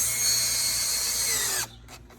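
A power drill bores steadily into the wood frame of a screen porch, a loud, continuous high-pitched whine that runs unbroken for about a second and a half before cutting off abruptly.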